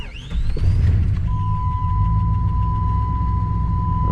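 A Jeep ZJ engine with a sticking ignition switch and a low battery turns over and settles into a steady, loud idle close by, running continuously with a constant whine layered over the low rumble.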